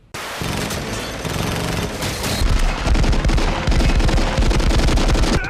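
Loud, sustained automatic gunfire fills a battle scene from an action film set in a White House siege, with dense overlapping bursts and booms continuing throughout.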